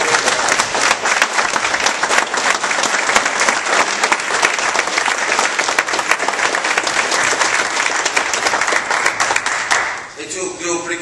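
A crowd applauds a high school JROTC honor guard at the opening ceremony of a strongman induction event, with dense, sustained clapping for about ten seconds before it thins and fades out.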